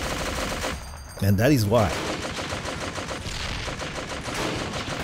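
A tank's machine gun rattles in a short, loud burst in the WWII strategy game Men of War: Assault Squad 2, chattering over game ambience while someone talks.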